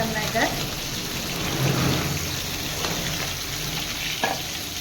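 Snakehead fish fries in a pan with a steady, close sizzling hiss and a few scattered pops and clinks, continuing evenly throughout.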